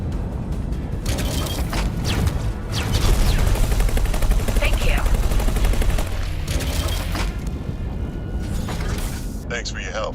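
Heretic's End video game gunfire: dense, sustained volleys of shots and mechanical clatter, loud and continuous, with voices talking over parts of it.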